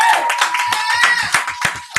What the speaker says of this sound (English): Y'all give Mrs. Nina Moore a round of applause.